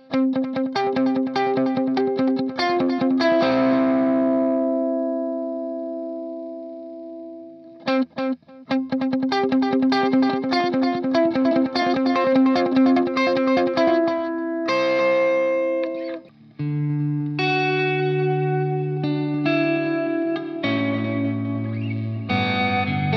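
An electric guitar played through a Nux MG30 with delay and reverb set like a DD7 rings out in picked phrases and sustained chords, each note trailing echoing repeats and a spacious wash.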